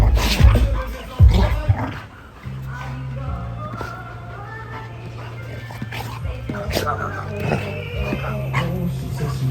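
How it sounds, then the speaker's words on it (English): Dogs play-fighting at home in the morning, with sharp close barks, yips and whimpers over scuffling and a steady low hum. "Doggy fight club every day."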